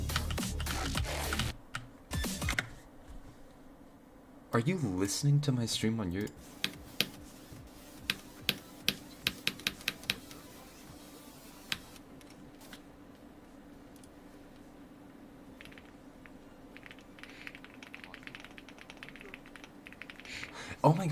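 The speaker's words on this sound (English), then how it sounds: "You're typing at the speed of frickin' light." Rapid typing on a Boson 65% keyboard sounds as dense bursts of crisp key clicks, near and moderately loud, broken by pauses while a person talks.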